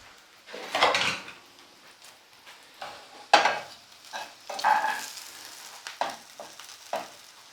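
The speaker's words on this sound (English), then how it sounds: "Nice and sizzling hot, beautifully caramelized onions with butter screaming out of them" Caramelized onions frying in butter in a hot pan for lamb smash burgers, heard as a low crackling sizzle broken by clinks and scrapes of a utensil against the pan, with several sharper knocks along the way and no talk.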